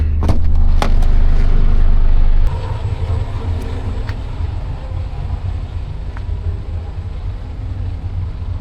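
A truck pulls out of a parking lot with a loud, steady low engine rumble heard up close; a few sharp clicks sound early on, and the drone eases slightly after a couple of seconds.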